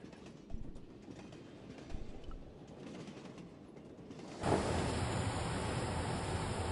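A train rolling on rails in the adventure game Broken Sword: a low rumbling background that abruptly swells into a loud, steady broadband roar of motion near the end, with no talking.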